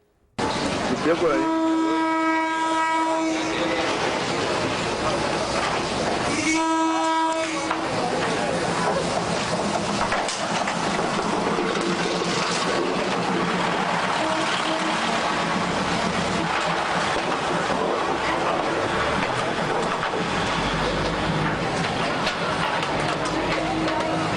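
An Amtrak train passes close by an outdoor farmers market, with loud, sustained rumble and rail noise throughout and two blasts of the horn near the start.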